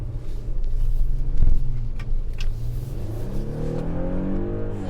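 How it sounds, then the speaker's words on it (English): A 2021 Audi SQ5 Sportback engine revs and accelerates in dynamic mode, a loud steady rumble rising in pitch with a brief surge in the middle, heard from inside the vehicle. "the so dynamic mode will pump more of that engine noise into the cabin"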